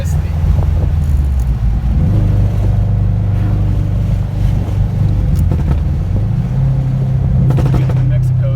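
A 400hp turbocharged Subaru STI pulls hard under acceleration, its loud, steady engine drone shifting pitch as it climbs through the revs, with a few sharp pops and bursts of cabin noise on top.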